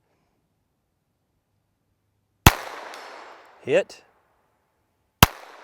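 Ruger LCP II .22LR pistol fired at a 100-yard target: two sharp, loud shots a few seconds apart, each trailing into an echoing decay, with a brief spoken word between them.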